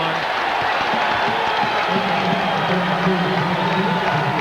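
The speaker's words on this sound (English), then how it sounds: "And the crowd beginning to get into it now" College basketball arena crowd at Penn State versus BYU, a steady loud roar of cheering and applause with a commentator talking over it.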